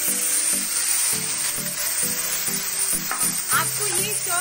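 Chopped tomatoes hit hot oil already holding garlic and red chilli for a sweet tomato chutney, giving a steady, close sizzle with intermittent stirring clatter throughout, no voice.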